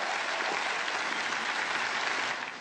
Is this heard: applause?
yes